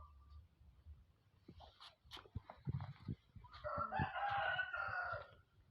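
Backyard chickens in a rural Thai home, a pair of seven-month-old hens of a Thai breed, with a rooster crowing clearly near the end amid scattered clucks and low background noise.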